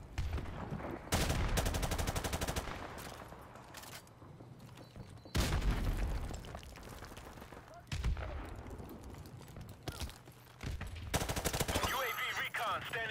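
Bursts of automatic gunfire ring out in Call of Duty 4 Remastered, loud close rapid volleys separated by short pauses, with crackling impacts between shots.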